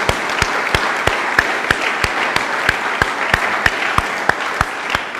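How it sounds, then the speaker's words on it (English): Big round of applause from a political conference audience for standing MPs, dense clapping with a steady pulse of louder, regular claps cutting through, close and sustained throughout. "Give a big round of applause."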